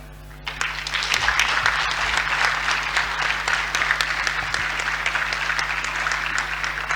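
National councillors in a council chamber break into sustained applause for the President of the Republic, a dense, steady clapping from a large seated group that starts abruptly and carries on for several seconds, with a low electrical hum beneath.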